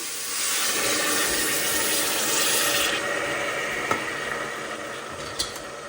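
Half a cup of water pours into a pan of sugar, a continuous rushing splash that rises, tapers off after a few seconds, then gives way to a couple of light knocks, with no talking.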